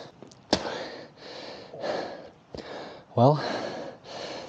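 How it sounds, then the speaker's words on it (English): Heavy, labored breathing of a hiker climbing uphill on an elk scouting trip, close to the microphone in repeated gasping breaths, with a few spoken words. "you can hear me breathing."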